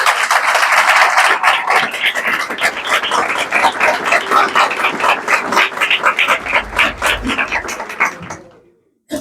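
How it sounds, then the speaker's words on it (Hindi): A church congregation at a Sunday sermon claps for one another, a loud run of fast, dense handclaps that thins into scattered claps before stopping abruptly. "सारे सारे सारे तालियां बजाएंगे एक दूसरे के लिए।"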